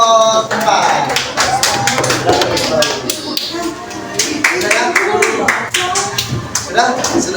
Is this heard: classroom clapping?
yes